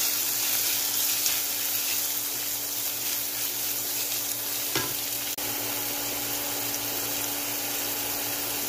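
Minced pork with garlic and a splash of beer stir-fries in a pan for a Cajun-style dish, giving a loud, even, watery sizzle with a few faint stirring knocks, heard close with no talking.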